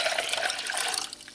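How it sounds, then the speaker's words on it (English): Dandelion and citrus liquid pours into a pot as a brief, soft, continuous splashing trickle lasting just over a second, with no voices. "the dandelion and citrus liquid, we'll put that into this pot"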